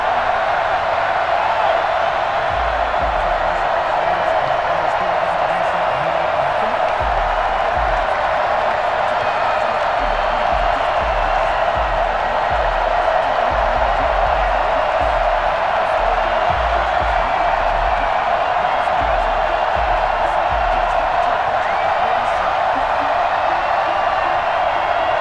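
A home stadium crowd at Hard Rock Stadium in Madden NFL 21, Dolphins fans before facing the Bengals, keeps up a steady broad roar of cheering throughout, with low thumping beats underneath.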